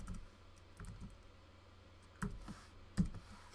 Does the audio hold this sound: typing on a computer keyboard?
yes